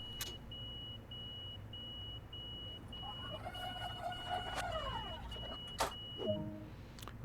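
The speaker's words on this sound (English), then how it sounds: "Right, lock doors. I'm going to lock the doors." Door-locking warning beeps aboard a Long Island Railroad train in Train Sim World 2, a steady series of short high beeps over cab rumble, joined midway by a rising and falling electronic tone and a few clunks.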